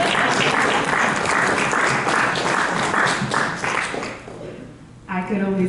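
An audience applauds at a Black film festival screening, with dense, loud clapping that fills most of the clip before thinning and fading out near the end.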